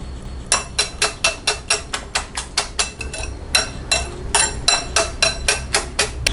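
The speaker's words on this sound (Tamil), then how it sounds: "இதையும் நல்லா பீட் பண்ணணும்" Eggs whisked with turmeric and chopped onion for an omelette, a utensil striking a bowl in quick regular clinks, about twenty sharp taps in two bursts, close and clear with no voices.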